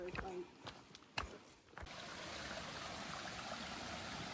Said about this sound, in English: Look at the beautiful creek